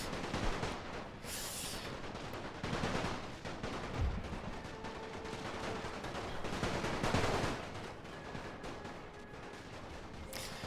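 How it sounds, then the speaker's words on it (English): Massed musket volleys crack repeatedly in a Napoleon: Total War Great War mod battle, with scattered shots and rolling fusillades over a constant din of battlefield noise, some bursts louder and nearer than others. "they are firing at me"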